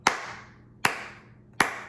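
Three slow, evenly spaced hand claps ring out sharply, each one fading before the next, with no other sound between them.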